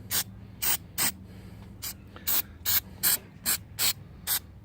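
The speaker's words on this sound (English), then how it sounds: "Let's get the right can here in my hand. Okay, here we go. Intake and carb cleaner." An aerosol can of intake and carb cleaner sprayed in about a dozen short, hissing bursts with brief gaps, used while prepping rust on a GY6 scooter body, close and loud with no talking.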